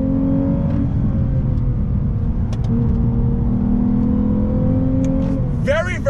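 A 2021 Lexus IS350 F Sport pulling out of a turn on throttle, its engine a steady, close droning hum with a gently rising pitch, heard from inside the car.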